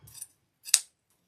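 Scissors snip ribbon material for an orchid wreath, two short crisp cuts close by with a brief pause between, otherwise quiet.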